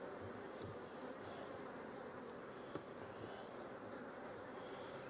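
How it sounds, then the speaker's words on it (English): Honeybees swarm around an open hive during an inspection, a dense continuous buzzing hum filling the air at close range, steady and unbroken with no talk. "So these bees look like they are getting ready to swarm."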